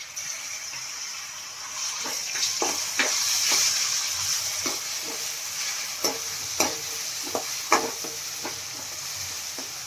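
Tomatoes frying in a pan while dhaba-style dal khichdi is made at home, with a steady sizzle throughout and about a dozen sharp scraping clicks from a spoon stirring the mixture. The pan is close and there is no talk.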